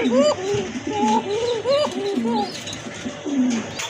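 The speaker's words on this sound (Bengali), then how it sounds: "এই যে দেখেন কবুতরের খুব ভালো ডাকে" Local deshi pigeons coo in repeated soft, warbling phrases close by, several birds overlapping in a steady rolling rhythm.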